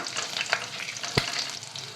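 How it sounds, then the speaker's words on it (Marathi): Dried red chillies, green chillies, ginger and garlic frying in a pan for a Punjabi makhani gravy, a steady close sizzle with a couple of sharp stirring clinks. "त्यात वाळलेल्या लाल मिरच्या, हिरव्या मिरच्या, आलं, लसूण हे आता ना अगदी 1 मिनिट फ्राय करूया."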